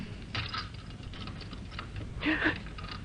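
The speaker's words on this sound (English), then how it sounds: "The key turned, effortlessly and easily." A key turning in a door lock in a radio drama, a few small clicks and mechanical ticks followed by a brighter metallic rattle near the end, close and quiet with no talk.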